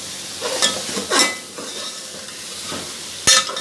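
Amaranth greens, cholaee saag, being stir-fried in a pan: a steady close sizzle with scraping strokes of a spatula and a sharp metallic clink near the end, no voices.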